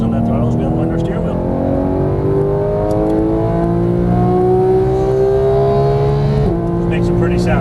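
A Porsche GT3 engine revs on a race track, loud and close from inside the car, its tone climbing steadily through a long pull before a sharp shift near the end, with a voice speaking over it.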